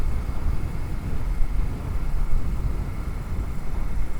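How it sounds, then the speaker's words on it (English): A Bear 650 motorcycle cruising on the road gives a steady, continuous low engine rumble mixed with broadband wind roar, holding an even level throughout with no talk. "This bike cruises so well."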